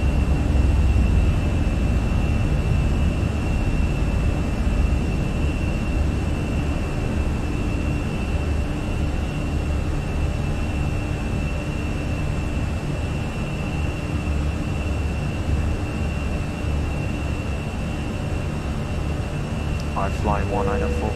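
An airliner takes off in Microsoft Flight Simulator, a loud continuous jet engine roar and rumble holding steady throughout, with a faint tonal whine and a radio-style voice briefly near the end.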